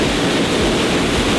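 Loud, constant rush of falling water, a broad hissing roar filling the short stretch with no pauses.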